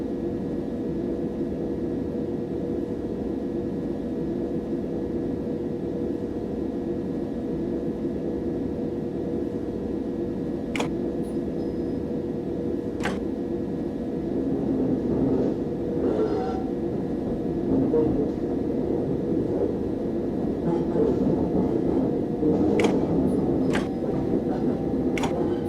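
A simulated train in Train Simulator 2015 crawls slowly on the route from Clapham Junction to Surrey Quays, giving a steady low rumble with a few sharp clicks near the end. No one speaks.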